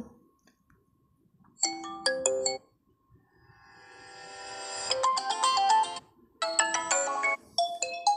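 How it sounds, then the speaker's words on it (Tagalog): The default Messenger call ringtone: a bright electronic tone playing in repeated bursts of quick chiming notes, separated by short pauses, with a rising shimmer before the louder second phrase. "Ito ang default ng call ringtone sa messenger."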